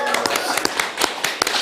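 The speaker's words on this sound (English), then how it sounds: "So can we please have a big round of applause for our finalists?" Scattered, uneven clapping for award finalists at a virtual assistant awards event, a handful of sharp close claps at irregular intervals rather than a full crowd.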